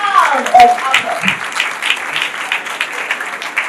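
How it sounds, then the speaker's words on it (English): Audience clapping at a talk on parent communication and bonding, moderately loud and continuous, with some voices murmuring over the applause. "can you give her a round of applause?"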